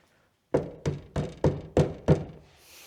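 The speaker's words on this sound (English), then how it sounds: "That slight rattling has irritated me since I got that wing put on." Loose aftermarket wing on a car knocking while driving: six distinct hollow thunks in a steady rhythm, close and fairly loud, with no talking.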